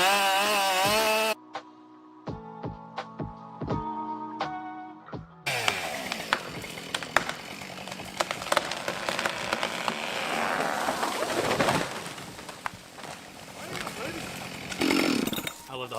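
Husqvarna chainsaw, likely a 572XP, running as a tree is felled, its engine roaring and whining under cutting load after a short burst of music with plucked notes.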